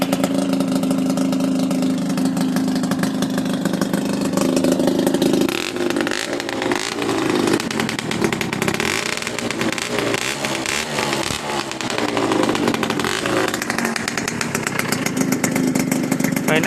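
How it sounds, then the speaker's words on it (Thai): A small Suzuki Akira motorcycle engine with the choke pulled, idling then revving up and down, close and loud, with a buzzy raspy tone throughout. "เดี๋ยวลองฟังเสียงเครื่องดูนะครับ"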